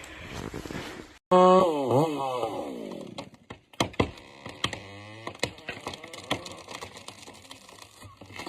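A chainsaw cuts through a large, century-old tree, the engine revving up and down in sweeping bursts among sharp clicks and cracks, with a voice talking over it.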